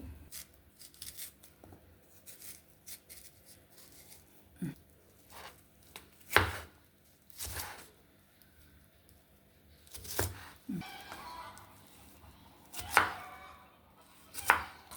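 Raw plantains, peeled, being sliced lengthwise with a knife on a board: a series of sharp, irregular chopping thuds, close and fairly loud, with pauses between cuts and no talk.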